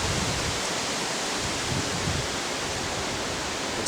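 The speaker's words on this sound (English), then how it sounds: "That wind is whipping right here" Wind whipping through woodland in a continuous, steady broadband rush, fairly loud and unbroken for the whole stretch, with no voices.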